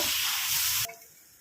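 Boiled masoor dal and pumpkin greens stirred in a hot pan, a loud close sizzle and hiss lasting under a second before abruptly dropping to quiet, with no voices.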